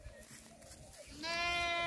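Goats grazing along a bushy edge, one bleating loudly and close at the end with a sustained wavering cry after quieter outdoor background noise.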